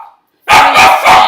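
A dog barks loudly and close by, three sharp barks in quick succession after a brief near-silence.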